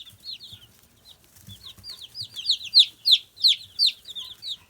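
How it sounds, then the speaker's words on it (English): A distressed chick chirps loudly and repeatedly, with sharp high peeps building in strength and speeding into a steady run, backed by softer chick peeps and faint low thumps. "So that loud chirping is a distressed chick."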